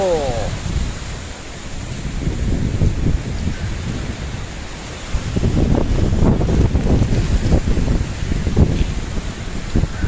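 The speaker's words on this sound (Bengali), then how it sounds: "আকাশে চলছে এখন ঝড়, আর আমি এখানে ভিডিও করছি। প্রচন্ড হাওয়া" Strong gusting wind in a Kalbaisakhi storm, a loud broad roar buffeting the microphone and swelling in the second half, with a constant rushing background.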